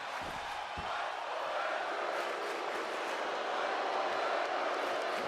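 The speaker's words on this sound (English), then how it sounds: "The crowd chanting for these men to fight forever." A wrestling arena crowd roars and chants steadily throughout, a dense, distant wash of massed voices with no single voice standing out.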